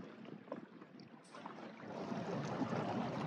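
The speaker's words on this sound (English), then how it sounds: "dinghy ride back to Frida, which is" A small dinghy motors across open water off Mallorca, a steady close rush of engine and wind noise that builds and grows louder toward the end.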